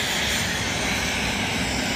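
An airplane passes overhead, a steady broadband engine roar holding at constant loudness for two seconds with no voices.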